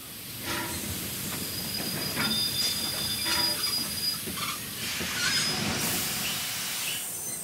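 A train rolls into London Euston Station with rumbling wheels, thin squeals from the rails and a hiss of brakes, steady and fairly close throughout with no voices.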